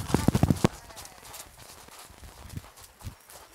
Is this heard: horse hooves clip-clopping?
yes